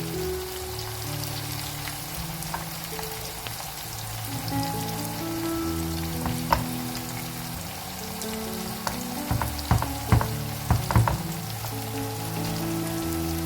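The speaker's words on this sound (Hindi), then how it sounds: "इस पॉइंट पर आपने चुकंदरों को भी एक बार हिला देना है ताकि टमाटर और चुकंदर मिक्स हो जाए।" Beetroot, tomato and onion sizzle steadily in a pan with a soft crackling hiss, and a few louder scrapes and knocks of stirring come through near the end.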